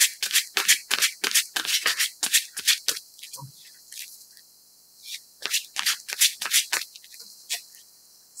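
Lenormand cards being shuffled by hand: a rapid, steady run of crisp riffling flicks, a short pause, then another quick shuffling run, close and fairly loud.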